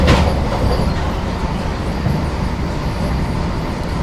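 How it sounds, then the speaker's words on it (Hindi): The Mumbai–New Delhi Tejas Rajdhani Express rushes past close alongside, a loud, steady roar of wheels and rail rumble that fills the whole stretch without letup. "अभी बगल से क्रॉसिंग होने वाली है मुंबई नई दिल्ली तेजस राजधानी एक्सप्रेस की"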